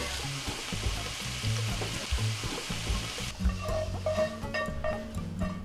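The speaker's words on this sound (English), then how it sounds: "You're gonna saute the shrimp for about 2 minutes" Shrimp sauté in a hot pan for spicy tacos, a steady close sizzle with stirring and scraping clatter that continues throughout, and no talk.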